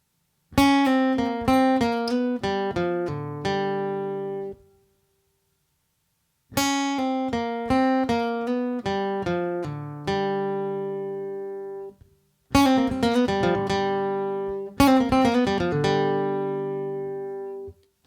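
A short acoustic guitar phrase of plucked notes played slowly, repeated several times with brief pauses between, each ending on a ringing note.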